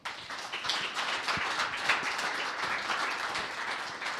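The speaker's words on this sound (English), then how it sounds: "let's give them a round of applause" Audience applause after a panel discussion at an email lunch-and-learn session, a steady, moderately loud wash of many hands clapping that holds evenly for several seconds with no talking.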